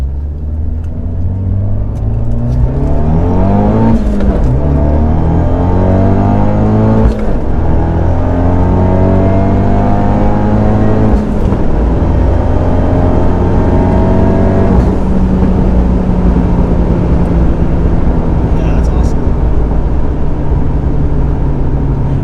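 A modified Fiat 124 Spider Abarth turbo engine accelerates through several gears from inside the car, loud rising engine tones climbing and dropping at each shift as turbo boost builds, no talking.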